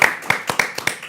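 In a television studio programme, several sharp, close hand claps land in a loose, roughly even rhythm, about six distinct claps in a second with brief gaps between them.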